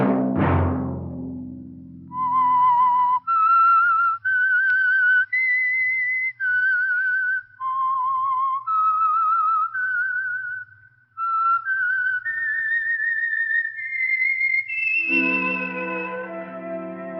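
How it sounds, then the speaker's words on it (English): The whistled theme of The Whistler, a Signal Oil radio mystery program, rises as a solo stepwise melody of clear held notes that climbs steadily, then gives way to a swelling orchestral chord. "Let that whistle be your signal for the Signal Oil program, The Whistler"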